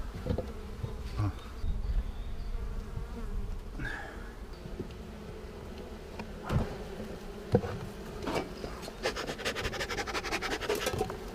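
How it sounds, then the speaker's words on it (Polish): Honeybees buzzing steadily around hives in an apiary on a sunny morning, foragers carrying pollen, a dense continuous hum with scattered scratchy knocks and rustles close by, no voices. "mamy tutaj pszczółki, które zaczęły pracę, bo wyszło słońce z pół godziny temu"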